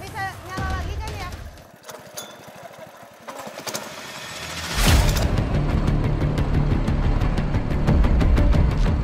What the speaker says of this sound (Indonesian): Beruntung mesin perahu bisa menyala kembali